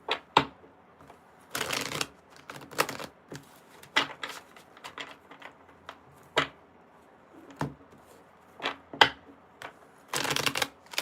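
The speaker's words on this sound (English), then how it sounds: "I'll shuffle while you're thinking." Tarot cards are shuffled close by in repeated short riffling bursts with small taps and clicks between them, no talking.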